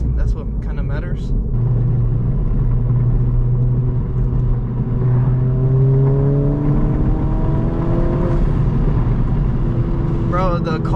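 Modified 2022 Honda Civic Si with a Ktuner V2 tune driving, engine droning steadily as it pulls through rising gears, a constant near cabin hum with faint background sounds.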